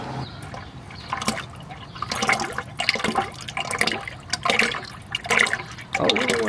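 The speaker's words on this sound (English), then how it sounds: "I think we're draining the tranny fluid." Transmission fluid draining from a truck, a steady liquid trickle and splash into a container, close by, with intermittent bursts and drips.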